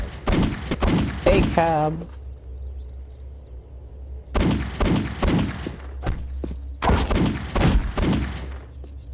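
Bursts of gunfire in a game-like scene: rapid clusters of sharp shots around a short spoken phrase, a pause, then more volleys of loud fusillade close by.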